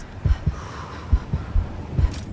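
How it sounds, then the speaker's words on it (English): A slow, steady heartbeat thumps through the music of the video game Cairn, low and muffled, in paired beats under a faint airy pad. "a heartbeat going thump thump thump thump"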